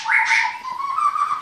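Magpie robin (murai) chicks in a breeding cage give a loud, close, sustained whistling call that holds steady pitch, with faint background noise and no talking.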